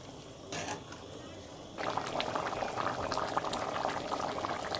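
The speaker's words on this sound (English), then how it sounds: "Bubbling." A pot of Guyanese chicken and rice bubbles steadily on the stove, a dense, continuous simmer of popping bubbles that grows louder partway through and carries on without talk.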